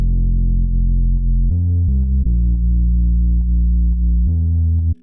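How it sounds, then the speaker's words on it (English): Three layered bass channels in a liquid drum and bass track, one a gritty saturated acoustic bass sample, playing together as a loud, thick, sustained low bassline that changes note every second or so. "So altogether, the 3 bass layers sound like this."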